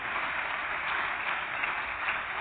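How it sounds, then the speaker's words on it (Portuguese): Many worshippers in a church clap together in a brief, continuous wash of applause, steady and moderately loud with no pauses. "Vamos aplaudir mais o Senhor"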